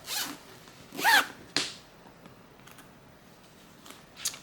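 A zipper on a handmade sewn bag is pulled in a few quick, close rasping strokes, followed by faint small handling clicks in an otherwise quiet room.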